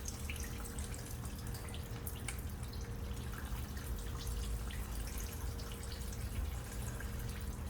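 Diesel fuel trickles and drips steadily from a drained tube during a fuel filter change on a Kubota L2050 tractor, a faint continuous liquid patter with no talk.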